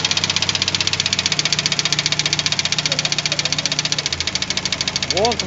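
Loud, rapid regular knocking from a running 4216 engine with the valve cover removed and a new cylinder head, a steady mechanical tapping over the idle hum, close up, with brief talk near the end.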